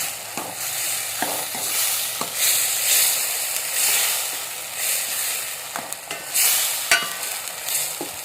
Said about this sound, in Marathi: आता टाकूया हिरवी मिरची आल्या लसूण पेस्ट हे व्यवस्थित परतून घेऊया